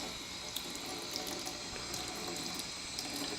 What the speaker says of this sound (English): so I'm going to give it a quick rinse.